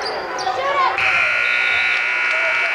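A long, steady electronic buzzer sounds at a high school boys' varsity basketball game to end the first half, ringing loudly over crowd noise and a play-by-play commentator's voice for nearly two seconds.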